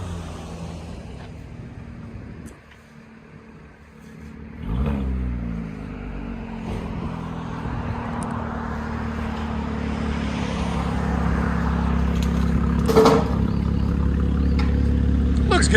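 Chevy Camaro 3.6L V6 fitted with Borla ATAK exhaust and X-pipe, a steady low engine drone outdoors that dips briefly, then swells and holds louder with a faint rise, a sharp click near the end.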